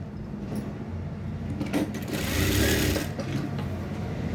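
Sewing machine stitching around the edge of a fabric garment piece, a steady close-up whirring hum that swells slightly midway and runs the full length without talk.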